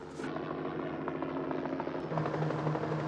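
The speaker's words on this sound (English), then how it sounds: "Helicopter." A helicopter drones steadily overhead, its low whirring rotor hum continuous and fairly loud throughout.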